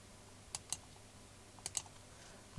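Two quick pairs of computer keyboard key clicks sound faintly and close, separated by about a second of quiet room hum.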